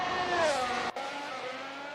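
Formula 1 race car in a sim racing game at the Hungaroring crossing the line, a loud high engine whine sweeping past at speed, then cutting abruptly to a lower steady engine drone.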